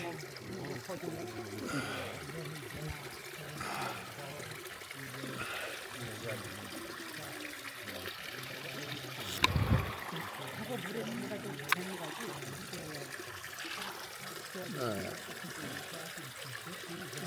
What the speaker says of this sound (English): the hot water comes out right over there